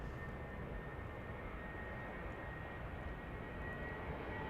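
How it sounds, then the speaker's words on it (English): An airplane at Adelaide Airport gives a steady, distant low roar that holds evenly throughout, fairly faint and with no talk over it. "I can hear a nice airplane roaring."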